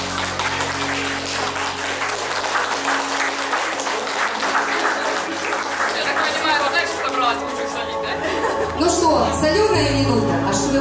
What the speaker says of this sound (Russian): Подружные аплодисменты всех гостей.